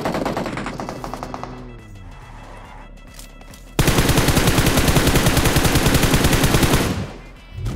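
Loud, rapid automatic gunfire from a mobile shooter game, a dense sustained burst lasting several seconds after a quieter stretch with a few earlier shots.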